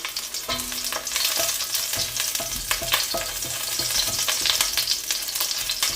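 Garlic sautés in hot cooking oil for chop suey, crackling and sizzling up close with dense popping spatter and the scrape of stirring throughout.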